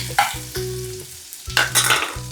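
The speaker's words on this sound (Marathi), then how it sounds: "आपण पहिल्यांदा लसूण टाकूया थोडंसं आलं पण टाकू असं ल लसूण मस्त लालसर झाला पाहिजे" Garlic and a little ginger frying in a pan for a fish dish, a steady sizzle broken by the scrape and clatter of stirring; loud and close, with no voices.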